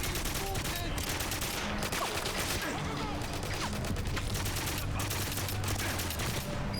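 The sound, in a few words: AK rifle gunfire in video game GoldenEye 007 Reloaded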